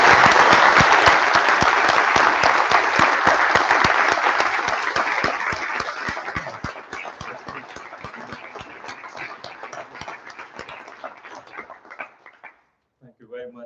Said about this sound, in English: I don't just absorb all the applause at the end here